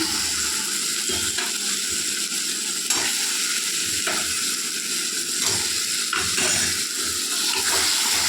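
Previously fried potatoes tossed into hot spiced oil for an egg curry, a steady close sizzle and crackle with scraping stirring sounds of a spatula in the pan, no talking.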